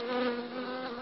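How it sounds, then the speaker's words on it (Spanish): A bee in flight toward a food station gives a steady, close buzzing drone that holds evenly throughout. "La abeja vuela directa hacia el puesto de comida."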